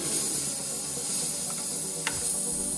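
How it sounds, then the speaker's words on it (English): Freon refrigerant hisses steadily from a punctured hidden evaporator line inside a mini fridge, a loud, continuous close-up spray with a small click partway through. "That's the sound of leaking freon."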